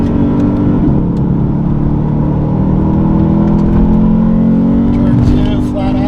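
A 2024 Lexus IS500 F-Sport runs flat out on a race track, its engine roaring loud and sustained at high revs with rising pitch and no breaks, steady and close throughout.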